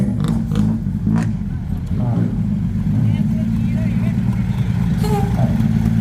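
A sand delivery truck reversing, its engine idling in a steady low rumble close by while a man calls out directions over it.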